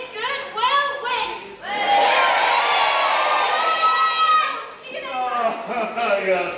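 Pantomime audience at an amateur Little Red Riding Hood show, children and adults cheering and shouting loudly for several seconds in a packed hall, with the crowd noise swelling, holding, then dropping back to scattered shouts.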